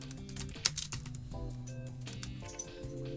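Quick, light keystrokes tapping out a command on a computer keyboard while playing modded Minecraft, a steady patter of clicks close to the mic over a low background hum.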